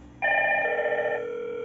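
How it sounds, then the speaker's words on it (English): Two indoor intercom screens ring at once after a call button is pressed on the outdoor station of a two-screen, one-outdoor-unit KIS602 door intercom system, a steady electronic tone starting abruptly and sustaining clearly in a quiet room. "Now, I will be pressing the outdoor screen. So, both of this device will be ringing."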